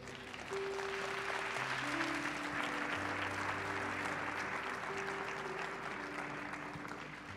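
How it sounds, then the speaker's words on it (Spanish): Congregation applauding in a church during a Spanish-language sermon, a steady sustained wash of clapping with sustained musical tones underneath, moderately loud throughout. "Dele un aplauso al Señor."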